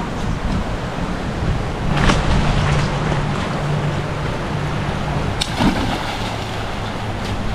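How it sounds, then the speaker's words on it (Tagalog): Strong river current rushes steadily at a campsite in Daraitan, Tanay, Rizal, a constant loud broadband wash with a few brief splashes and no talk. "Malakas kasi yung agos ng tubig dito"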